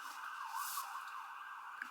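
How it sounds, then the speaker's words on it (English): Sirens wail steadily at a moderate distance, a continuous rising and falling tone with no talking. "all these sirens, I don't think you can even hear me right now."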